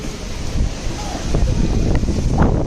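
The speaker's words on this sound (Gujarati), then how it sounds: "ઠંડો પવન છે, ઠંડો પવન." Steady wind roars and buffets the microphone with a low rumble, gusting continuously throughout.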